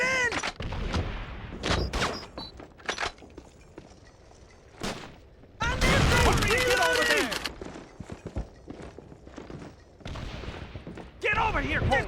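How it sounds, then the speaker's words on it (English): A grenade blast and gunfire from a World War II battle in Call of Duty 3 on PlayStation 2, with a loud, sustained burst of explosive noise in the middle and sharp shots scattered around it, mixed with shouted voices. "One grenade going in!"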